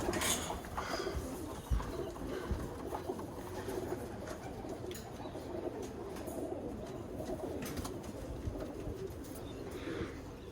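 Birmingham Roller pigeons cooing steadily in a loft, soft repeated coos layered over a rustling, busy background of birds with a few sharper knocks.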